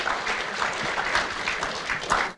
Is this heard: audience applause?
yes